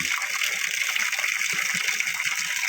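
Water gushes steadily and loud into a filling container at a rubber plantation, a constant rushing wash with low burbling underneath and no pauses across the short span.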